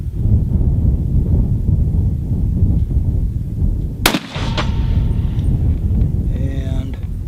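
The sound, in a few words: 300 Winchester Magnum rifle shot with square back bullet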